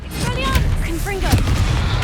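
Confringo spell blasts in Hogwarts Legacy combat give loud, rapid booming bursts with whistling, swooping tones over a dense, steady battle din.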